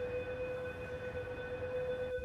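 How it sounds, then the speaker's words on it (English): A steady, sustained flood warning siren tone in Venice drones on without a break, heard alone over a low background rumble. "High water warnings still sounding across the city today."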